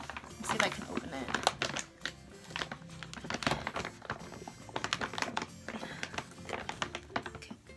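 A packaged pack of dog rib bones is handled and pried at, giving close rustling, crinkling and sharp tapping clicks in uneven bursts while a person speaks through it.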